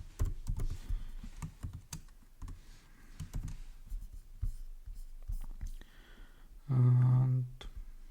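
Code being typed on a computer keyboard, a quiet run of irregular, close key clicks and taps with brief pauses and one short louder buzz near the end, no talking.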